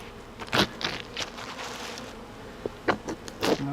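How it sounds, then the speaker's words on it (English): Honey bees buzz around an open hive frame in a backyard apiary, with a steady drone and several louder passes as individual bees fly close, and no talking. "The bees are flying up."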